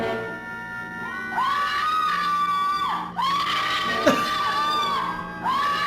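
A woman screaming in the Vincent Price horror film House on Haunted Hill, long piercing screams repeated in sustained bursts with brief breaks between them, loud and close.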